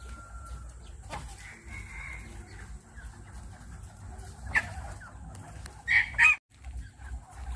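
A bantam rooster crows and hens cluck nearby over a low rumbling background, with a couple of sharper calls clustered near the end.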